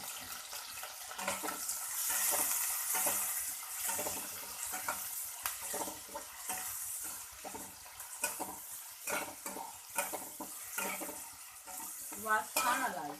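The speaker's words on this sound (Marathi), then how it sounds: "तेलामध्ये भाजायचे चांगले." Washed ingredients roast in oil in a pan, giving a steady close sizzle with intermittent stirring and scraping sounds over about thirteen seconds, without talk.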